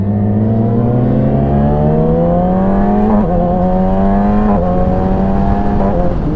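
A 2017 Yamaha R6 sport bike engine drones continuously while riding, its pitch climbing steadily with two quick dips where gears change, loud and close throughout with no talk.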